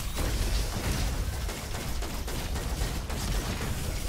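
Rapid Junk Arquebus gunfire in Roboquest, a dense, steady stream of shots with faint mechanical clatter, loud and continuous throughout with no voices.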